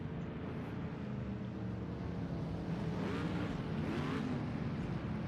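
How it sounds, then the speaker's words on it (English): Race car engines of the Sauber C9 Mercedes-Benz series idle and rumble at Sugo in a racing game, a steady low drone with rising revs swelling midway as cars prepare to resume green flag racing. "So we can hear the engines roar as they're pretty much ready to go back to green light racing here."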